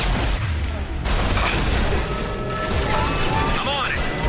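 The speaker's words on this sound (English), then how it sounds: "Firing a high-impact shot" High-impact weapon shot and gunfire in a Mass Effect firefight, loud booming blasts and crashing impacts with rapid gunfire, close and continuous, mixed with voices and sci-fi weapon whines.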